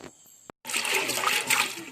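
Soaked lentils being washed in water: a click, then about a second of close sloshing and splashing water, brief and fairly loud, with no talking.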